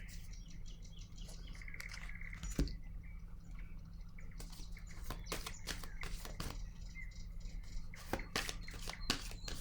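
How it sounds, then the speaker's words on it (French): Tarot cards are handled and laid down with soft, quiet slides and taps in short bursts, while birds chirp faintly in the background. "Je vais déposer une autre carte ici, dans cette zone."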